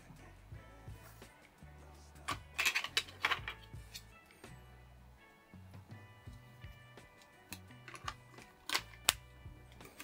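Typing on an iiglo MKX metal-bodied silent wireless keyboard with scissor switches, soft scattered clicks in quick irregular bursts, fairly faint and close, with a low hum in the background.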